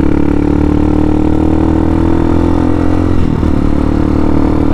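A Hawk 250 motorcycle engine running close by, a loud steady mid-pitched drone with a constant rumble throughout and no speech.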